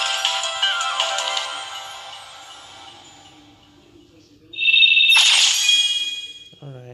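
A phone ringtone sounds in a short bright melodic burst partway through, loud and close, following a fading electronic music passage.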